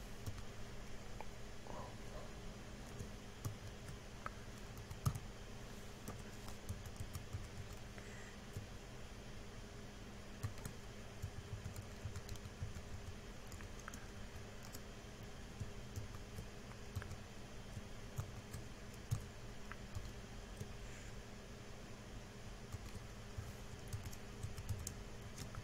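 Soft, steady typing on a computer keyboard, with scattered light key clicks over a low room hum and fan noise, quiet and close throughout.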